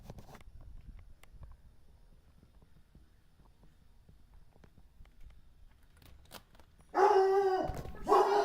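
After several seconds of near-quiet room noise with faint clicks, a dog suddenly breaks into loud, close barking that continues to the end.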